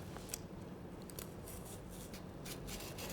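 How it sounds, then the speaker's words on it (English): A blade cuts along a lantern pattern in cardboard, giving a steady close rasping scrape with a few sharper snips, soft and continuous. "we begin making a straight cut along the pattern"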